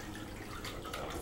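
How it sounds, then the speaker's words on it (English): A 12-volt submersible pump drives water through a portable propane shower head, producing a soft, steady hiss of spray, faint and continuous with slight surges. "this is the new pump that I bought, 12 volt submersible pump for the portable shower unit"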